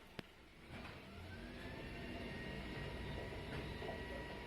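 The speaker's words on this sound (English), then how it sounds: "So do you hear the rubbish truck outside?" Bin-day rubbish truck working outside in the suburbs, a steady low engine rumble with mechanical whine heard at a distance through walls, holding fairly even throughout.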